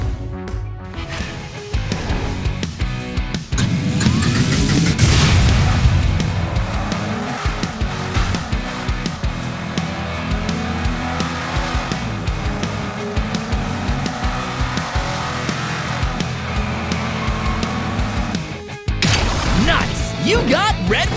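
Toy car racing in the Hot Wheels Unlimited video game: loud continuous engine roar with skidding tire squeals and an occasional crash, under game music and voices, cutting off briefly near the end before resuming.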